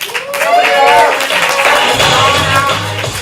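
Comedy club audience at a ComedySportz improv show applauding a guest named Kevin, a loud, dense wash of clapping and crowd noise with speech-like voices woven through it.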